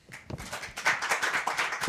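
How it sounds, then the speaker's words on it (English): Sparse hand clapping for a round of applause at an online webinar, a short, thin patter of a few claps from a handful of participants. "Round of applause."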